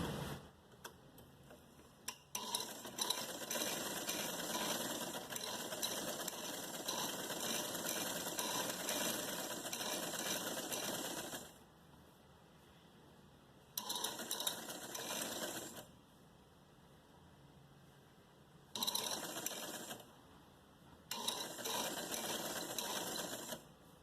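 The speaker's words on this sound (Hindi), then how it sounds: "देखिए, अब मैं इसको यहाँ से सिलाई शुरू करूँगी।" A domestic sewing machine stitches a net frock, running in long loud bursts of rapid mechanical ticking, with short quiet pauses between runs of stitching.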